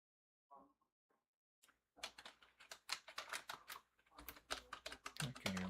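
Someone types on a computer keyboard, a fast irregular stream of close key clicks after a few faint sounds and a moment of quiet, ending with a brief tonal sound.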